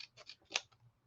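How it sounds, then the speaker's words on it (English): Small 10-hole scissors snip paper in a few quick, close, light cuts in a quiet room. "I think these are 10-hole scissors."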